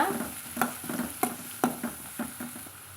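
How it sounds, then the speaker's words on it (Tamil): Fennel and cumin seeds sautéing in oil for aloo paratha: a soft, steady sizzle broken by a spoon scraping and clicking sharply against the pan every half second or so. Close by, with no talking. "கூடவே கொஞ்சமாக சோம்பு வந்து சேர்த்துக்கலாங்க அதே அளவுக்கு சீரகம் வந்து சேர்த்துக்கலாங்க இதை நம்ம வதக்கி விட்டுக்கலாங்க"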